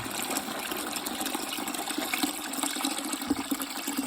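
Dirty carpet-cleaning water full of dust and body oils gushes and splashes as it is dumped out, a steady rushing pour lasting several seconds at moderate volume with no talk.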